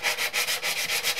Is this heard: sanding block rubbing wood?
yes